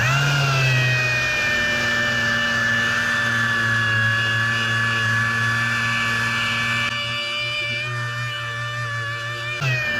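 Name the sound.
sanding car door jambs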